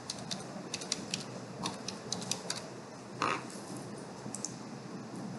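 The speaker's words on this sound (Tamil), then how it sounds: "ஸோ நான் என்னோடய நேமே டைப் பண்ணிக்கிறேன் இங்கே" Someone types a name on a computer keyboard, a run of irregular light key clicks up close with a few sharper taps and faint room noise.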